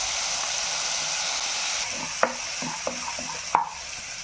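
Ground masala paste for chicken curry sautéing in a pan: a steady, close sizzle and hiss throughout, broken by a few sharp clacks of stirring toward the end.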